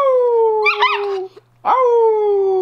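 A dog howls in two long, close, loud drawn-out notes with a short gap between them, yips and whimpering breaking into the first note.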